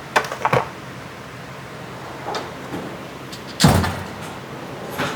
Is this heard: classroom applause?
no